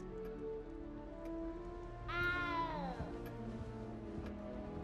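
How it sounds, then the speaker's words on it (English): A cat meows in the rain in the Hogwarts Legacy video game, one clear drawn-out meow rising and then falling, over a steady patter of rain and a low musical bed. "You don't need to be frightened, little cat."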